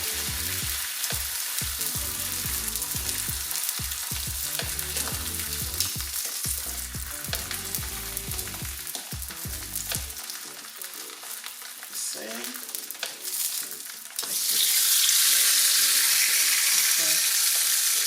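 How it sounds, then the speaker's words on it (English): An oil-dipped tortilla sizzling on a grill for birria tacos, a continuous close frying hiss with scraping and stirring noises, swelling into a louder, brighter sizzle near the end. "Dip our tortilla and then grill."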